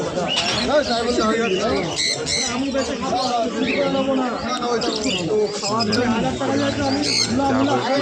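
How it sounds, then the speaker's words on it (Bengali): Many pigeons coo and birds chirp amid a noisy crowd at a pigeon market in Krishnanagar, Nadia, with people talking loudly throughout. "কত পায়রা আছে, অনেক পায়রা নিয়ে বসে কত কি সুন্দর।"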